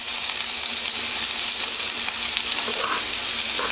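Steady, close-up sizzling of chopped onions frying in hot oil, a dense continuous crackle with no voices.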